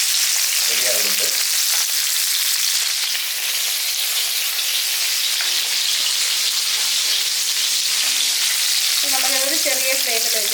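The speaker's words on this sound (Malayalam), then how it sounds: "നമുക്കൊരു ചെറിയ ഫ്ലെയിമിൽ വെച്ചിട്ട് നമുക്കതൊന്ന് തിരിച്ച് മറിച്ചിട്ട് ഒന്ന് വറുത്തെടുക്കാം" Mackerel fries in a pan for a traditional Kerala fish curry, a loud continuous sizzle and crackle that stays steady throughout, with brief faint voices surfacing under the frying.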